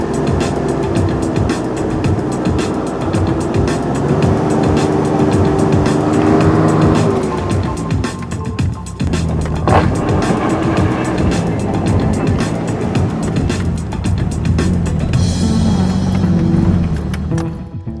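A stick-shift truck climbing a small hill on recovery boards, its engine droning loud and close throughout with shifting revs and gravelly rumble under load.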